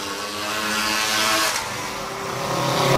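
A racing motorcycle at a memorial moto race in Bjelovar roars past close by, a loud buzzing engine sweeping through and fading, with no talk over it.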